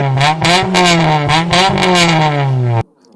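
Honda two-stroke engine revving hard, a loud, close buzzing drone that rises and dips in pitch over nearly three seconds before cutting off abruptly.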